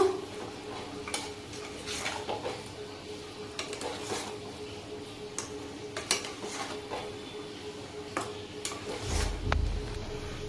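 Palm-fruit chamcham sweets being stirred in a pan of sugar syrup, heard as soft scattered clinks and scrapes of a utensil against the pan, close and quiet, with no talking.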